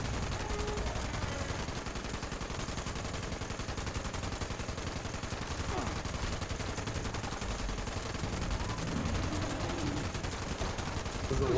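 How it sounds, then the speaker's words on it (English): Dense, continuous gunfire from the video game Fallout 76, rapid bursts of shots rattling steadily and loudly throughout with no pauses. "There's a lot of bullets."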